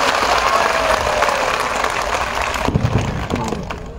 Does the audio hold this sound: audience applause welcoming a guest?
yes